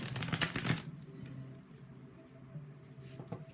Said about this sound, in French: On va tirer une carte au hasard.